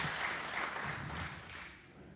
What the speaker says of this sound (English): Just give a big round of applause again